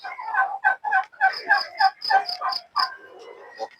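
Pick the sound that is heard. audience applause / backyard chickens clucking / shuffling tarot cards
backyard chickens clucking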